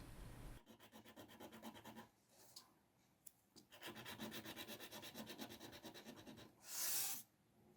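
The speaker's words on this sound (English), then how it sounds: "I cut 4 strips of wood the same size and sanded the ends flat." Small wooden strips for a miniature wicker dollhouse bookcase rubbed against sandpaper to flatten their ends, giving steady rhythmic rasping strokes close up, with short pauses between bursts and no talk.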